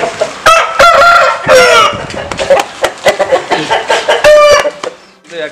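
A fighting rooster on a chicken farm crows loudly up close, breaking into several bursts of clucking and squawking, with faint background voices.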